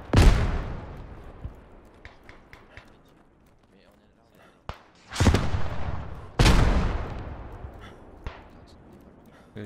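Gunfire and shell blasts in the World War I shooter Beyond The Wire: loud sharp reports with long decaying booms, two heavy explosions close together midway, scattered fainter shots between, and a voice talking over parts.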